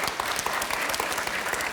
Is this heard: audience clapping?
yes